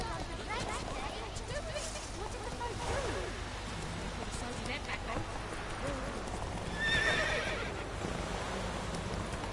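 Roach, a horse in The Witcher 3 Wild Hunt, gallops with steady clip-clop hoofbeats and loud neighs and whinnies, under a person talking excitedly over the game audio.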